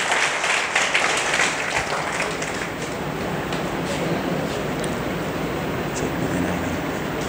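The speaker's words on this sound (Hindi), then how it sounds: "तालियां बजती रहिए।" Audience clapping at a NEET-2022 felicitation ceremony held by a coaching class in Prayagraj, a dense, steady wash of many hands that runs throughout at moderate level, with faint voices mixed underneath.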